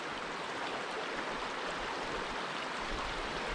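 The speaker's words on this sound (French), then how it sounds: "la rivière" A river in New Caledonia flows in a steady, dense broadband rush, close and continuous with no pauses and no voices.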